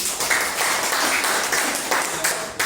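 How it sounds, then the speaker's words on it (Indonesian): Students in a vocational high school classroom during an artificial intelligence training session give a short, lively burst of clapping for a classmate, close and fairly loud throughout. "Tepuk tangan untuk Ari"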